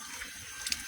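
Water flowing through a home water softener plant during manual washing, heard as a quiet, steady trickle and rush with a couple of small splashes near the end and no talking.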